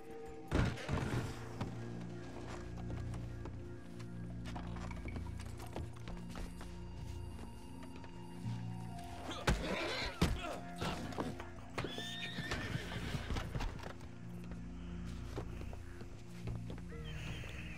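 Horse hooves clip-clop at a walk in the video game Red Dead Online, with a couple of neighs and some dull thuds, under a steady low hum, with speech faintly present.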